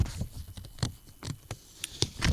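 Rain beginning to fall, heard as soft scattered patter of drops striking a surface, irregular taps with a faint hiss between them, no voices.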